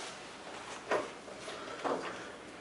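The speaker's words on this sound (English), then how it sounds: "go ahead, close the door and open it." An interior room door on a film set is closed and then opened, giving two soft, brief thumps about a second apart over a quiet room background.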